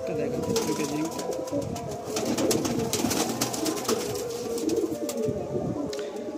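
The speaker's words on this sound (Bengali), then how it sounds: "এটা গিরিবাজ মেচুয়া পায়রা" Giribaz and mechua pigeons coo and call at a sale loft, a steady murmur of nearby birds with scattered rustles and some indistinct voices underneath.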